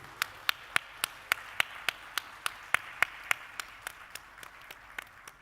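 Sparse, evenly spaced hand claps come from an audience at an AI panel discussion, about fifteen crisp sharp claps that start strong and fade toward the end, with no speech.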